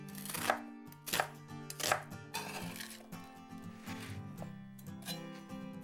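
Brown onion being chopped with a knife on a board while making kunmandu dumpling filling, a string of quick, close knife strikes, several sharp chops followed by steadier lighter cutting.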